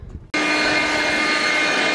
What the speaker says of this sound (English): Leaf blower's a little disappointing.